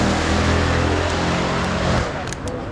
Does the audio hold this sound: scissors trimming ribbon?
no